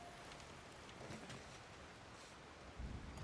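Very faint rain hisses steadily outdoors with a soft low rumble of distant thunder near the end, all quiet and far off with no voices.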